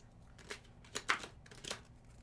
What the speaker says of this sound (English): Going to give it one more shuffle.